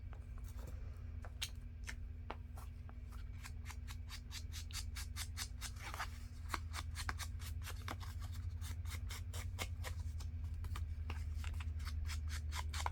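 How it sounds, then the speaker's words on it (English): Bottom corners of light paper tags are rounded with a corner punch or scissors, making a long run of sharp clicks and snips, steady and close, over a low hum in a quiet room. "And then I want to round my bottom corners"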